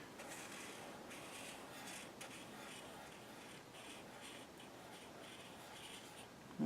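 Crayon or Chameleon pen dragged across paper for calligraphy practice, a steady close scratchy rubbing of the tip on the sheet with slight variations as the wrist rotates, and no talking.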